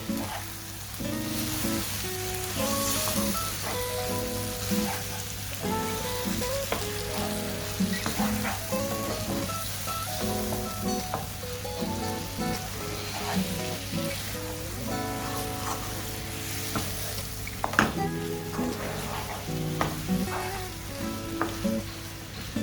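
Chicken roast stir-fried in a pan, a continuous close sizzle like rain running throughout, with frequent metallic scraping and clattering of a ladle against the pan as the mixture is turned over and over.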